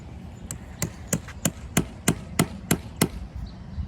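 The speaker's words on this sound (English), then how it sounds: "You get your nail. Hammer." A hammer drives a nail to fix a traffic counter onto a telephone pole outdoors: eight or nine sharp, evenly paced knocks, close and moderately loud, over low background rumble.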